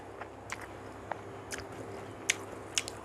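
Soft, sporadic chewing, biting and squishing sounds come from someone eating khanom jeen nam ngiao with liver, close and quiet, with a few sharper clicks scattered among them.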